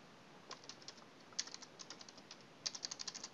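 Fingers tap a computer keyboard in short irregular bursts of light clicks, with one quick flurry near the end, close by and fairly quiet over faint background hiss.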